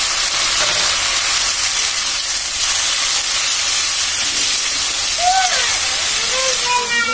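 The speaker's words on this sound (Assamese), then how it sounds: "পিঁয়াজ ভাজা হৈ গ'ল ভালকৈ এতিয়া দি দিলোঁ বিলাহীখিনি" Tomatoes hiss loudly in hot oil with fried onions, making a dense, steady sizzle that fills the whole stretch without a break.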